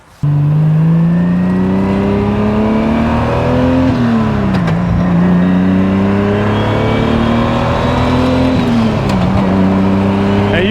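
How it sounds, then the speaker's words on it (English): A 1000 hp Gen 3 Toyota Supra with no clutch use on shifts accelerates hard, its engine roaring loud and close as the pitch climbs, drops sharply at two gear changes, then climbs again. "I'm gonna show y'all how the gearbox shift."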